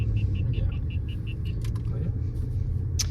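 A 2020 Audi SQ7's engine and exhaust hum as a low, muffled rumble heard from inside the cabin while cruising, steady throughout with a faint repeated chime and a few small clicks.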